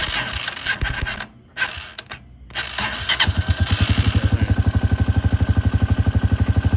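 A Kawasaki TMX 125 motorcycle's electric starter whirs and cranks the engine in a fast, even rhythm after a few short bursts, close and loud, with no voices.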